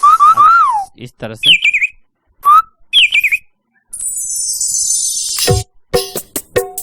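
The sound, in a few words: koel bird call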